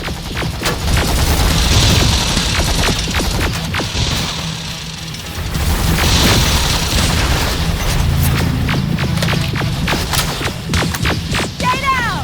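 Gunfire and explosions in the video game Terminator: Resistance, dense rapid shots and heavy booms in a ruined city battle, continuous and loud with brief sharp cracks near the end.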